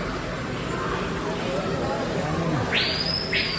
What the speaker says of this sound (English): Hear that screamer?